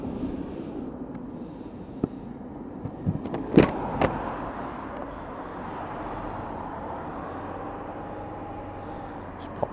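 A 125cc Lexmoto Chieftain motorcycle rides along in town with a low, steady engine drone under wind rush, with a few faint clicks and knocks partway through.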